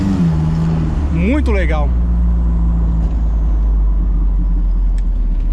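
Karmann-Ghia fitted with a mid-mounted Audi turbo engine, driving with a steady loud engine rumble throughout while someone speaks briefly over it near the start.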